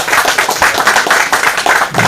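Press meet attendees clap for a singer. The clapping is loud and close, with rhythmic bursts of claps coming in a fairly regular beat through the whole stretch.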